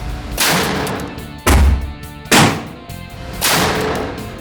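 Four sharp, loud rifle reports from a .270 firing Hornady 130-grain SST Superformance ammunition, spaced about a second apart, each a heavy thump trailing into a decaying echo at an outdoor range.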